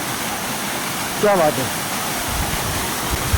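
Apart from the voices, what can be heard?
waterfall at Matheran hill station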